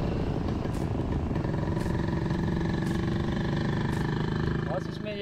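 A 1967 CZ Jawa two-stroke motorcycle with twin exhausts idles steadily and loudly up close, its throbbing exhaust running throughout with periodic sharper bursts, no talking.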